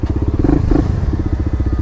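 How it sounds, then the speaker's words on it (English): Suzuki RV125 VanVan motorcycle engine starts and settles into a loud, close, rapid single-cylinder thumping idle, with a brief louder burst near the start. "Let's turn the engine on."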